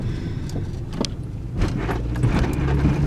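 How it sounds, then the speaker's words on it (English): Interior road noise in a 1994 Toyota Corolla with worn sway bar end links, a low engine rumble and intermittent light clacks and rattles from the front end while driving. "when you drive around, you hear a lot of like clacking from the front end"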